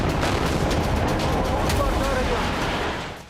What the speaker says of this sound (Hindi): पूरे अफगानिस्तान के चप्पे चप्पे में बारूदी धमाके हो रहे हैं।